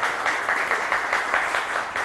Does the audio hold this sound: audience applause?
yes